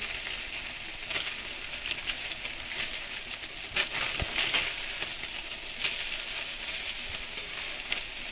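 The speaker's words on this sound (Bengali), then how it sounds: "উল্টা সাইডটা ভেজে নিচ্ছি" Small fish turned over and frying on the other side in hot oil in a kadai, a steady close sizzle and crackle with occasional louder spits and pops, no voices.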